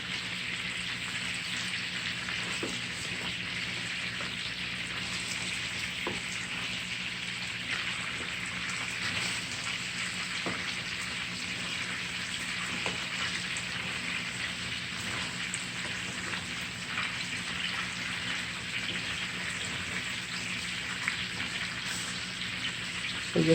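Garlic chicken pieces frying in oil inside a pot give off a steady, even sizzle with soft crackles, continuous and fairly close throughout, no voices.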